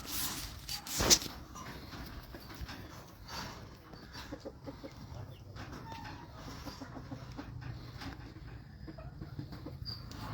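A chicken of an attractive breed with glossy feathers on an amateur farm, giving a single faint cluck near the start over quiet, low farmyard background.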